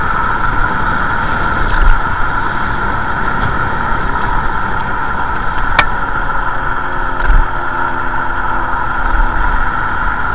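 Steady motor whine with road and wind rumble from a Teverun Fighter 11+ electric scooter moving at speed, continuous and close, with a brief sharp click partway through.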